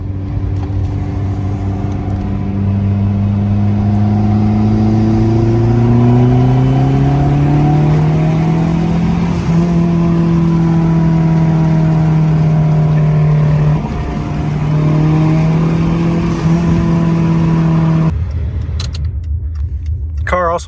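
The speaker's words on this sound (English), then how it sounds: "Let's do a little bit of a third gear pull." A Dodge SRT-4 Neon accelerates hard through a third-gear pull, its engine drone climbing steadily in pitch for nearly twenty seconds before cutting off abruptly, loud and close from inside the car.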